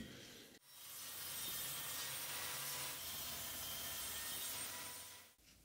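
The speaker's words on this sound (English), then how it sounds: "I will also do these ends with this table saw because this cut is so much cleaner" A table saw cuts across the ends of wooden candle-holder pieces in one steady, loud, continuous pass of about five seconds, starting and stopping abruptly, with no talking.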